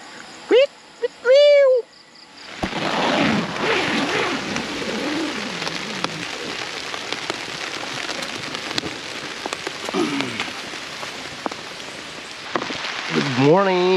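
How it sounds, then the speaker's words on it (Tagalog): Steady rain patters and drums on surfaces at a motorcycle campsite, a dense continuous hiss lasting many seconds, with a voice talking over it. "So yun na nga, umuulan."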